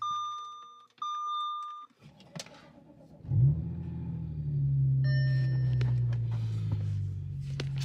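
Audi S4 cold start: a few electronic chimes, then the engine cranks, catches and settles into a steady loud idle, with more chimes over the running engine.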